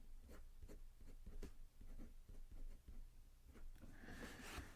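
A Montblanc 24 fountain pen nib scratches across paper in short, rhythmic strokes, each a soft scritch close to the ear, quiet and alone, with a brighter scraping stroke near the end.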